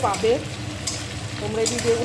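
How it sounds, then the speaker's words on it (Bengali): Onions fry and sizzle in a pan with a steady low crackle, joined by brief scraping stirs, while a voice speaks softly over it. "পেঁয়াজটা ভাজা ভাজা হয়ে এসছে, লাল লাল হয়ে এসছে"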